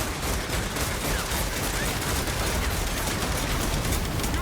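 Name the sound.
Skaven Rattling Gunners opening fire in a Warhammer video game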